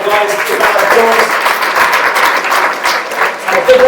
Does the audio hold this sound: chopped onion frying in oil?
no